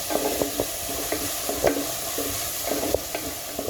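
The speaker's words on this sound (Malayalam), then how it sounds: "ഇതെല്ലതും ഒന്ന് നല്ലോണം വഴറ്റി വരട്ടെ അതിൻ്റെ പച്ചമണക്കം ഒന്ന് പോകട്ടെ" Shallots and garlic sauté in a pan for a sardine fish curry, with a steady sizzle broken by regular scraping taps of a stirring spoon close by.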